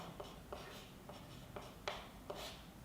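A pen writes labels on a physics diagram of a charged metal sphere, producing soft, evenly spaced strokes and light taps about every half second against a quiet room hiss, with no talking.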